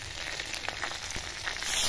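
Water poured into hot oil holding a rui fish head and bay leaf makes a steady, hissing sizzle with faint crackles, growing louder toward the end, and no one speaks.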